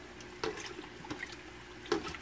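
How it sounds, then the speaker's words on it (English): Water solution sloshed around in a tank holding a few gallons, heard as three brief splashing surges spaced under a second apart over a low steady background, fairly faint and close. "And slosh it around a little bit so it mixes in."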